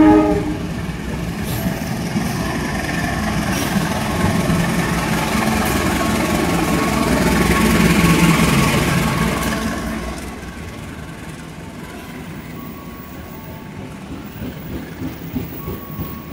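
A vintage-livery locomotive hauling the Singasari express from Jakarta to Blitar rolls past on track 6 at a busy Jakarta station at night, a loud sustained rumble and rail clatter swelling to a peak, then fading to station ambience.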